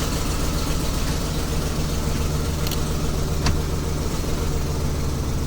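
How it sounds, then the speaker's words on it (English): A gas or diesel 2008-2010 Ford Super Duty F250/350/450 truck engine idles steadily after a remote start, a low continuous rumble heard close and alone, with a couple of faint clicks. "the engine's running on the key"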